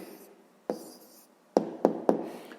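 Writing implement scratching out an answer for a sixth-grade maths problem: a soft early stroke, then three quick firm taps in a row, close and fairly quiet, no talking.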